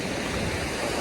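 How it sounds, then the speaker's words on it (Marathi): Sea waves at Dadar Chowpatty beach in Mumbai, a continuous broad wash of surf roaring steadily and close, with no voices over it. "पाणी, लाटा वगैरे एकदम खतरनाक."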